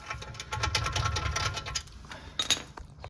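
Quick ratcheting clicks from a wrench tightening a caliper bolt on the front brakes of a Mercedes GL450, a close, rapid run of metallic ticks that pauses briefly and then gives a short final burst.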